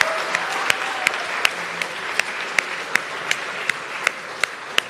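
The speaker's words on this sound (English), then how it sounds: "How about another big round of applause for all of our presenters?" An audience applauds presenters at a Falling Walls Lab event in Edmonton, a steady crowd clap under which a few sharp, closer individual claps stand out at a regular rhythm, with no talk.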